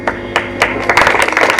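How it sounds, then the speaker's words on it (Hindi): An audience of students and parents at a school principal's speech breaks into dense, loud clapping, building quickly into close, sustained applause. "लेकिन इन तालियों से कुछ नहीं होगा।"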